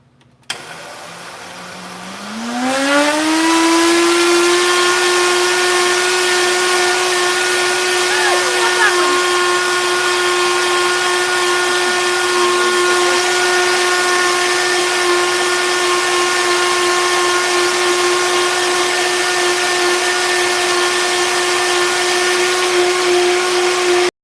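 A small electric grinder grinding turmeric whirs up from a low start into a steady, loud, high-pitched motorized whine that runs on without letting up.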